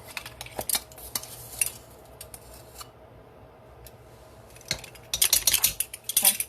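Dry ingredients for a chocolate cake, including baking powder, being mixed in a bowl: scattered sharp scraping and clinking strokes, sparse at first, then quick and dense near the end.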